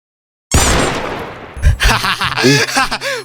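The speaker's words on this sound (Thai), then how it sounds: "ลองเอาปืนยิงมันดิ" Gunfire from a gun in the Roblox game: a sudden loud burst of rapid shots opens, followed by more scattered shots mixed with excited voices and laughter, close and harsh.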